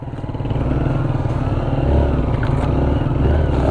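A motorcycle runs along a beach trail at Dicotcotan Beach in Palanan, Isabela. The engine's close, continuous throbbing drone holds steady throughout, with slight swells and light rattling.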